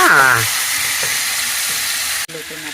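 Chicken pieces hit a hot pan for curry and burst into a loud, steady sizzle with a dense hiss, after a brief vocal sound at the very start.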